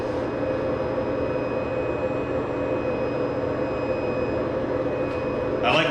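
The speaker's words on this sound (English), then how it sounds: "Little sanding on the top here." The top of a kitchen cabinet is sanded with a continuous, even, broadband rasp that holds steady for several seconds at close range.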